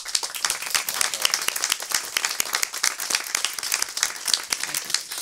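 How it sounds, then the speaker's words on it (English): Breakfast-event attendees applaud first responders with brisk, distinct claps from a modest crowd, individual hand strikes audible in an uneven, lively rhythm that carries on without pause. "give you a round of applause?"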